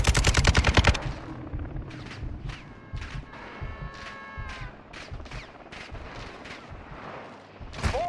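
Gunfire from a video game campaign: a rapid automatic burst opens, then a steady run of single sharp shots follows at irregular spacing, with faint tonal game sounds in between.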